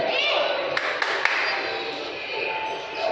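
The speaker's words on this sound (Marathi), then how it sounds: "टाळ्या वाजव टाळ्या वाजव" Three sharp hand claps ring out in quick succession at Worli village in Mumbai, with voices and a child's chatter around them.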